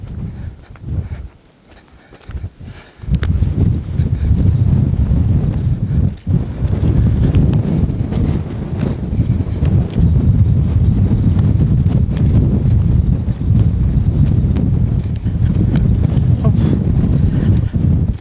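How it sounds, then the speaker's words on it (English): Strong wind buffets the microphone on a remote countryside walk, beginning as a brief rustle and then surging into a loud, continuous roar that hardly lets up. "Here comes back the wind. Oof. The wind is back."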